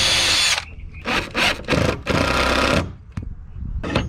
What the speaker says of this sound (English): I'm gonna go ahead and drill the second one.